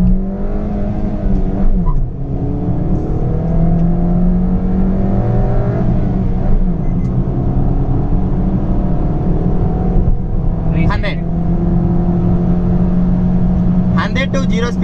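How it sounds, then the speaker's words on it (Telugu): A Maruti Suzuki Ciaz sedan accelerating hard from a standstill toward 100 km/h, with a steady engine drone and a rising pitch as it pulls through the gears for about fifteen seconds, heard from inside the car alongside some cabin voices. "ఒకసారి ఈ వెహికల్ 0 to 100 కిలోమీటర్ స్పీడ్కి ఎంతసేపట్లో రీచ్ అవుతుంది"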